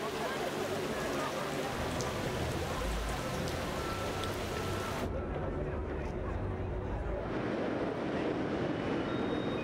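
Rain falls steadily on an outdoor breakfast event on a bridge, a dense constant patter with a narrator's voice over it throughout.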